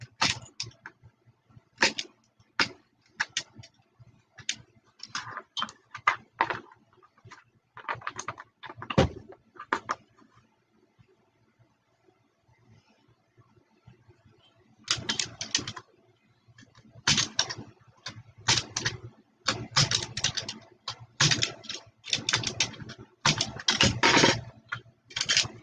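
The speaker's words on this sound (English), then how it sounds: "I'm using a metal ruler and my craft knife, and I'm just going to cut that corner off" A craft knife cuts through leather along a metal ruler on cardboard, producing close, irregular clicking and scraping bursts in clustered runs, with a quieter pause midway before denser strokes return.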